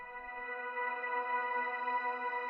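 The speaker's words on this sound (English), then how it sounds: "last thing is this frozen pad thing here" A quiet, static pad of sustained piano-like tones hangs in a washed-out reverb, steady and unchanging for a few seconds.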